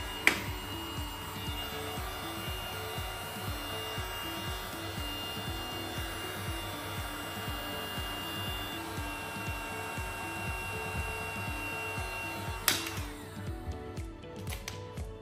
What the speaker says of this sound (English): I'll just grab my heat gun